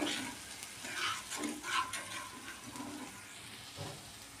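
Ginger-cumin paste and chili paste frying together in a pan for a paneer curry, a soft steady sizzle with light stirring scrapes, close and fairly quiet, no talk.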